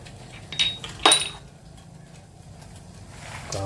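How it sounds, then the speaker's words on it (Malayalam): Peanuts clatter into a metal pan in two quick bursts of hard rattling and clinking, followed by a quiet stretch and a faint scrape near the end. "അടുത്ത് നമുക്ക് കടലയിടാം"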